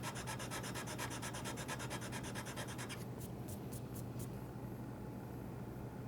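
A hand file works over a Damascus steel chef's knife with quick, repeated rasping strokes, faint and close. The strokes stop partway through, followed by a few light scrapes.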